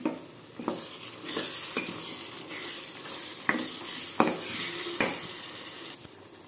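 Raw prawn curry cooking in a pan gives a steady low sizzle, with a few sharp spoon clinks and scrapes against the metal scattered across it.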